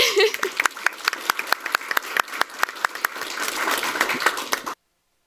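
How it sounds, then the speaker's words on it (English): Applause at a school board meeting, a few distinct loud claps standing out over a broader patter of hands that builds and then cuts off abruptly, with some voices faintly underneath. "Another round of applause"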